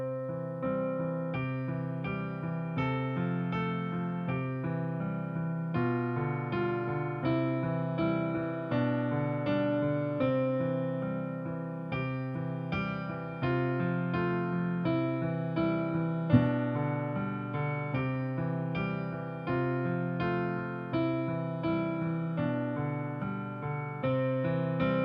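Slow piano passage with a steady rolling left-hand arpeggio under sustained chords, moderately loud and close, played alone with no talking.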